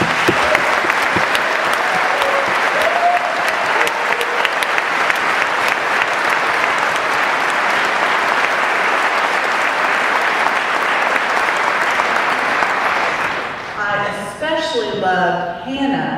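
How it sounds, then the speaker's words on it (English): An audience applauds new freshman Texas Aggies entering the university, sustained loud clapping from a large crowd for about thirteen seconds before it fades as a speaker's voice comes in. "give them a big welcome and a big round of applause."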